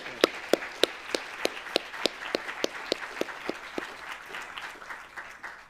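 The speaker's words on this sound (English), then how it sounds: "Why don't we give a big applause to all the speakers?" Audience members at a conference session on displacement and climate change give the speakers a modest round of applause, distinct individual claps at first that blend into a softer, denser patter.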